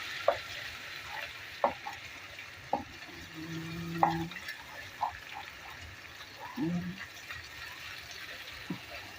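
Garlic and ginger frying in a little oil with curry leaves and browned onions for a fish korma: a steady sizzle punctuated by regular sharp spatula clicks against the pan.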